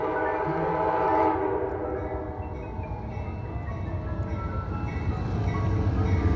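A DC Metro train rolls through an underground station at L'Enfant Plaza, a steady loud rumble with rail noise building slightly toward the end, no voices.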